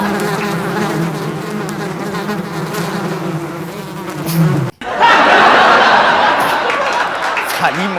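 A fly drones steadily at close range for several seconds. After a short break there is a louder, brighter stretch with chuckling mixed in.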